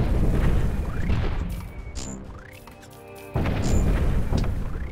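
A cannon shot explodes in the video game Cannon Brawl, heard as several heavy booms and crashes with a brief quieter gap between them, loud and close with no talking.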